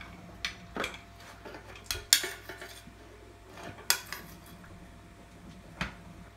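Steamed kozhukattai are lifted out of a steamer pot, with scattered clinks and clatters of metal utensils and cookware, sharp and close, at irregular intervals.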